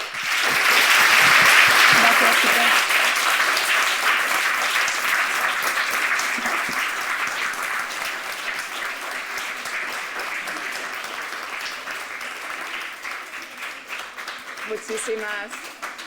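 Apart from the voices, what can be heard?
audience applause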